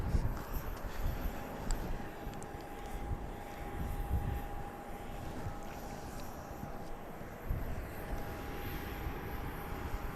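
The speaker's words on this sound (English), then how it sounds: "Oh, I see a plane in the skies. You know what that means. We'll get to see a plane coming in." A fixed-wing airplane comes in to land at Dallas Love Field, a steady distant engine roar with a faint whine, broad and continuous across the stretch, heard outdoors without talk.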